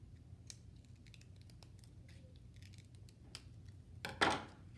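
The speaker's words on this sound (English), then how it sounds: "we're gonna take the last piece of plastic and trim it down a little so it'll fit over the edge" Scissors trim a piece of clear plastic for a homemade kaleidoscope, with faint scattered snips and rustles ending in a louder, sharper cut.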